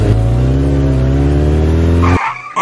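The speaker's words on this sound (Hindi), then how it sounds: "अब देख मैं तुझे अपनी ये बाइक चलाकर दिखाऊंगा" A cartoon motorbike riding effect plays as a loud, steady droning engine note for about two seconds, then cuts off abruptly.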